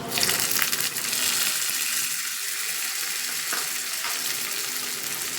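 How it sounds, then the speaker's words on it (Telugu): A sizzling tempering of spices is tipped into a curd chutney of brinjal and old pickle and stirred, a sharp burst of frying hiss and crackle fading into softer sizzle with scraping stirs, without speech. "తాలింపు వేగిపోయిందండి వేసేసుకుందాం"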